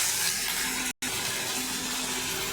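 Water poured into a pan of potatoes fried with salt, turmeric and chilli, a steady splashing pour that runs throughout with a brief gap near the start.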